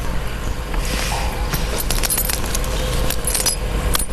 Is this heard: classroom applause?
no